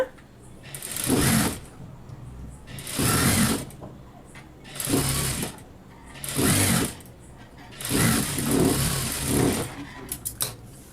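Sewing machine stitching blouse fabric in bursts of rapid whirring, about six runs of a second or so each separated by short pauses, close and fairly loud, with no talking.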